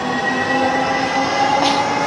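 A metro train passes close by in a downtown city setting, a loud continuous rumble with steady humming tones and a brief hiss or squeal near the end, with no talking over it.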